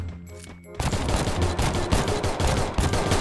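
Rapid automatic gunfire in the video game Free Fire during a 4v4 match begins abruptly after a brief musical tone, a loud, dense burst of shots continuing without pause.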